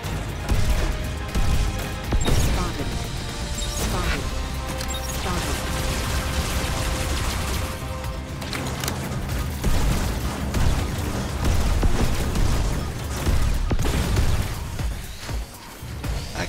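Flak anti-aircraft fire in a video game: repeated loud bursts and crashing booms over a busy, layered battle din that continues throughout, with a voice speaking occasionally.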